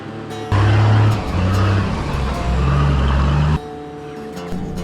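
A 4x4 engine roars loud and close as the vehicle churns through thick, boggy mud on a wet Barrington Tops track. The revs rise and fall for about three seconds, then drop back to a lower idle.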